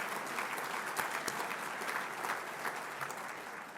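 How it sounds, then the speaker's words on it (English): An audience at a fundraising dinner applauds junior ROTC cadets, steady dense clapping throughout, fairly distant and soft. "And big round of applause for them."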